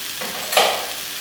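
Vegetable samosa filling of masala and vegetables roasting in a pan, giving a soft steady sizzle with a single louder scrape of stirring near the middle.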